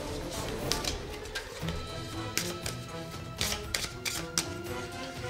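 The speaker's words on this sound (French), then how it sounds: "on va mélanger le treasure chest, donc ce sont toutes les cartes trésors." A deck of treasure cards from the Dungeon Crusade board game is shuffled on a table, making quick riffling flutters and soft card taps in short bursts, close and fairly quiet.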